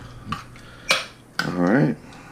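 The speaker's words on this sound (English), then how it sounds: "Stir this all around." Metal spoon clanks and scrapes against a pot while chili is stirred, a few separate knocks followed by a longer scraping stir, close and moderately loud.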